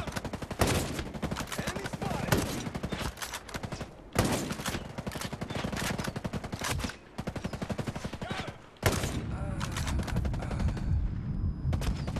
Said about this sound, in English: that second shot missed because maybe I should start tracking him.